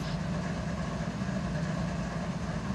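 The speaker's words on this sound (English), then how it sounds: "We're going to auto start all the locomotives." Several diesel locomotives idle together in Run 8 Train Simulator, a steady low rumbling drone with constant mechanical hum and no variation or talk.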